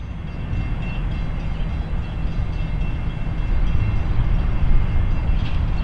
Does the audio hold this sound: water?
no